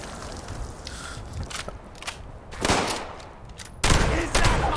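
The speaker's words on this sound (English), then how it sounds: "Shooting a grenade launcher with me within arm's reach." Grenade launcher fire in Fallout 76, heard as a few sharp, loud bursts and blasts spaced unevenly over several seconds above a low rumbling game background.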